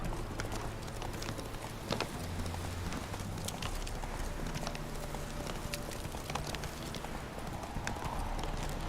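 Horse hooves clip-clop steadily in The Witcher 3, a dense, continuous patter of hoofbeats close by over a busy game-world background.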